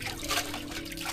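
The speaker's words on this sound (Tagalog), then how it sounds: "Lakas ng tubig ah." Water rushes strongly and steadily at a house washed out by flooding, a continuous loud splashing flow with no pauses.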